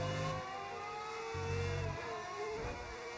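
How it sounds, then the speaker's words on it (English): Onboard engine note of a Formula 1 car in a racing video game, a steady high whine with shifting pitch as the car slows hard under braking, loud and close with no voices. "You'll definitely hear him slamming the brakes on something"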